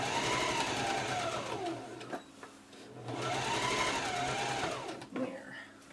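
A sewing machine stitches a kawandi quilt, whirring in two long runs separated by a short pause, with a quiet voice talking underneath.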